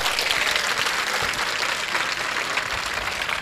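Audience applause for a guest lecturer at an educational guidance event, dense and loud clapping from a large crowd sustained evenly throughout.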